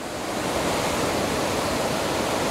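A waterfall pours down in a loud, dense, unbroken roar, heard up close and alone with no talking over it.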